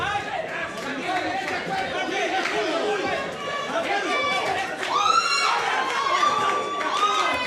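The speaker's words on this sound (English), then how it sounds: "The crowd cheering for both boxers." Spectators at a boxing bout cheer and shout continuously for both fighters, a busy, moderately loud wash of many voices with a brief swell of sharper yells partway through.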